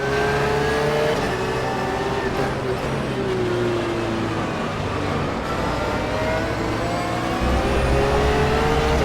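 Porsche 911 GT3 R race car engine in the racing game rFactor 2 at Imola: a loud, continuous engine drone with shifting pitch and rising revs, heard from inside the car with a rival car close behind.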